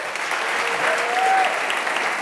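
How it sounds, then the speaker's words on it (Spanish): An audience at a talk applauds a guest with steady, dense clapping that fills the room at an even level throughout. "Un aplauso para él."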